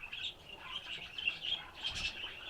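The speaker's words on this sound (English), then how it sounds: "You're telling me these birds are making all those noise?" A flock of birds chirps loudly and continuously in a dense, busy chorus with no voices.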